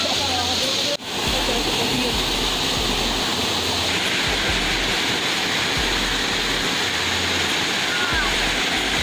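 Lulugayan Falls, a waterfall in Samar, pours in a steady, loud broadband rush that continues throughout, with a brief knock near the start and a low rumble beneath.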